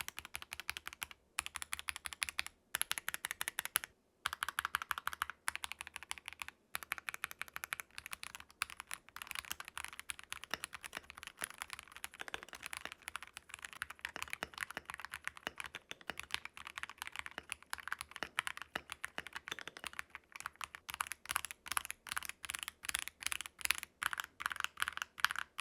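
Typing on an Ajazz keyboard fitted with Diced Fruit Peach switches, stock and then hand-lubed: a steady, dense run of close keystroke clacks with brief pauses, carried alone throughout.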